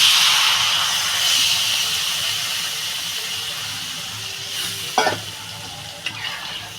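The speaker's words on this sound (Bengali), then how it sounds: "আমি এবার জলটা দিয়ে দেব" Water poured into a hot pan of turmeric-fried spices for a chela fish and flat bean curry sets off a loud, steady sizzling hiss that slowly fades, with a couple of sharp utensil clinks near the end.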